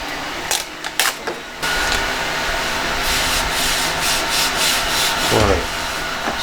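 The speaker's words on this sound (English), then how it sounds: "This is a vinyl squeegee, but I just wanted to be on there nicely." A vinyl squeegee smooths an adhesive sheet onto the bed of a Geeetech A10T 3D printer, making a steady, close scraping rub that runs continuously after a few short scuffs at the start.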